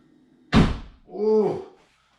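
A 2012-2019 VW Passat car door swings shut with one solid, fairly loud thunk, followed by a short voiced groan.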